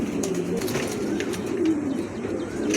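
A pair of pigeons cooing in a showroom, continuous overlapping throaty coos close by with light chirps and wing flutters behind, no speech.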